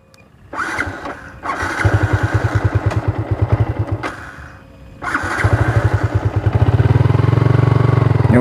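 A 2009 Yamaha V-Ixion motorcycle engine, lightly modified, starts and idles with a pulsing putter, cuts briefly, then restarts and revs up steadily and loud, close by.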